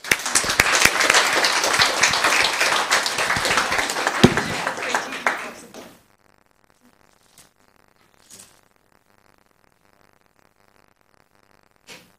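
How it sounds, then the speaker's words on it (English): An audience at a town council meeting in Los Gatos breaks into loud, sustained applause for about six seconds, then it stops abruptly, leaving near silence with a few faint scattered claps. "Give him a round of applause."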